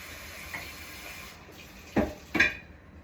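Water sloshes and pours as an old flower vase is emptied and refilled with fresh room-temperature water, with a few short splashes and clinks standing out near the end.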